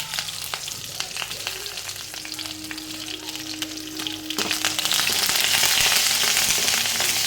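Curry leaves with coriander frying in hot oil in a pan, a steady close sizzle and crackle that grows louder and busier partway through, with no talking.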